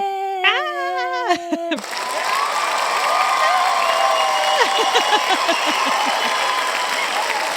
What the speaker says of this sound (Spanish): Valga la ovación para la película.